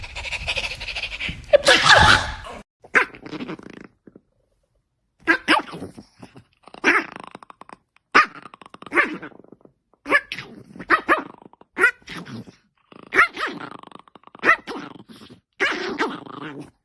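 A puppy barks and growls in short, separate bursts with silent gaps between them, close and fairly loud, opening with a harsher sneeze-like snort.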